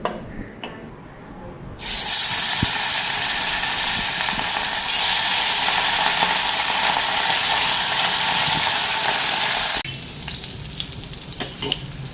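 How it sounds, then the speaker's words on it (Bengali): Hilsa fish fries in a hot pan with a loud, close, hissing sizzle. It starts suddenly, holds steady for about eight seconds, then cuts back to a quieter background. "আর এদিকে ইলিশ মাছ ভাজা"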